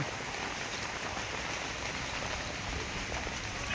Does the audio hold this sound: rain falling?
yes